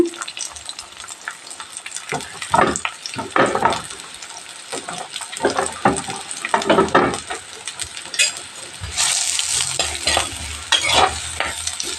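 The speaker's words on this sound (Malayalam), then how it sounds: "ചെറുങ്ങനെ അരിഞ്ഞ ചെറിയുള്ളിയാണ് ചെറിയുള്ളി പച്ചമുളക് കറിവേപ്പില എന്നിവ ചേർത്ത് നല്ലപോലെ ഇച്ചിരി ഉപ്പും ചേർത്ത് വഴറ്റണേ" Chopped shallots, green chili and curry leaves sauté with salt in a pan, giving a loud, close sizzle with repeated scraping stir strokes and a brighter hissing burst near the end.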